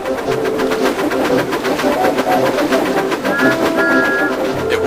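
Animated steam engines racing through snowy countryside, a steady rhythmic chuffing and rolling rumble with a brief whistle-like tone near the end, loud and continuous.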